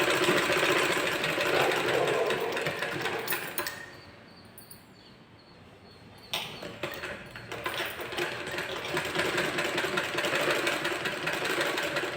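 Sewing machine stitching around the neck of a blouse lining, a steady close mechanical whir that pauses briefly midway before resuming at full pace.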